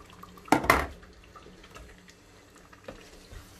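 Water poured into a pot of stew holding kidney, beef and boiled chicken, one short splashing burst followed by faint drips and quiet kitchen noise.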